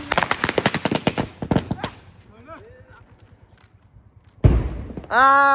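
Diwali firecrackers burst in a rapid string of sharp cracks that fade away, followed by a quiet stretch, a single loud bang and a rising whistling hiss, with voices faintly in the background.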